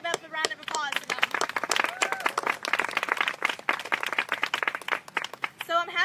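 Audience applause at a Capitol Hill rally against Planned Parenthood, with scattered clapping and cheering voices mixed through a busy crowd din across several seconds.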